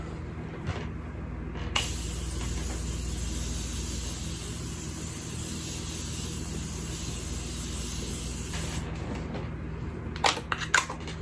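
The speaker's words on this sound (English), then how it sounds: "For the setting spray, I use the Morphe Continuous Setting Mist." A steady hiss of fine setting spray mist, Morphe Continuous Setting Mist, lasts about seven seconds, with a few light clicks and taps before and after.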